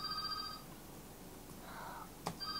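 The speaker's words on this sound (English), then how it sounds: "The phone rang." A telephone rings nearby in a room, with two short electronic tone bursts separated by a pause, heard alone and at moderate volume.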